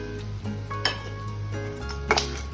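Lentils frying in oil for pulihora give a soft, steady background sizzle, broken by a few sharp clinks and scrapes of a utensil against the pan, with no talking.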